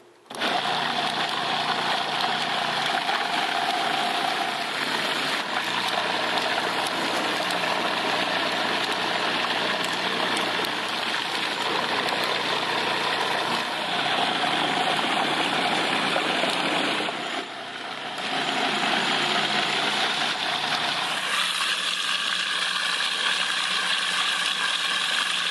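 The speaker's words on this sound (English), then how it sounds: "we're going to go ahead and put this pond scum right into the food processor" Wolfgang Puck 12-cup food processor with an 800-watt motor blending pond scum, a steady loud whirring motor drone running continuously with a brief dip near the end before resuming.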